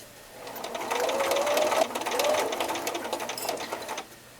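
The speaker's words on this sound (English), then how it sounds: "be careful when sewing over the overlapping fabric here for the backing, so you don't flip it up." An embroidery sewing machine stitches through overlapping pillow backing fabric for a piped Mother's Day pillow, its rapid mechanical needle rhythm running steadily and close up for about four seconds, alone without any voices.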